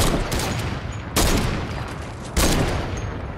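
Rapid bursts of gunfire from a Fortnite match, three loud volleys of dense automatic shots in quick succession, close and dominant with no talk.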